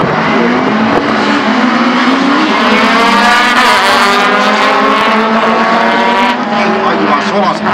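A rally car launches from the start in Honkajoki, its engine climbing through rising revs with loud, close, harsh tones and brief gear changes. A commentator talks over it.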